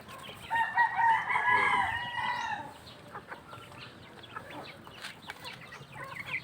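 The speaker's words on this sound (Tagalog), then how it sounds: "Ito na yung aking free-range na 45 days no, broiler." Free-range broiler chickens about three weeks old cackle and crow loudly nearby in a farmyard, a drawn-out call up front followed by scattered softer clucks and faint chirps.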